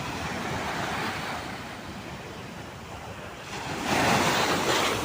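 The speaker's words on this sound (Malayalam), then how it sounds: "ആഹാ, തിരയിങ്ങ് കയറി വന്നു കേട്ടോ." Sea waves wash up on a Kasaragod beach in Kerala, a steady broadband roar of surf with wind, swelling louder as a wave surges in near the end; no one speaks.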